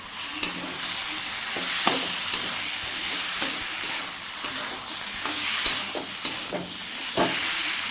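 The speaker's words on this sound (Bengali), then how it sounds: "ভালো মতো করে এবারকে পুরো মিক্স করে নিতে হবে" Banana flower curry fries and sizzles steadily in a pan, with repeated scraping strokes of stirring at irregular intervals, close and continuous with no talking.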